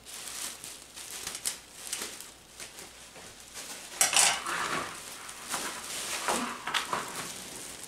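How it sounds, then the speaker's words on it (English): Plastic cover from a trash bag being trimmed off with scissors or a blade for a homemade mini seed greenhouse, giving close crinkling and rustling with scattered snips, plus one louder burst of crackle partway through. "I'm going to trim it here. We don't need so much plastic."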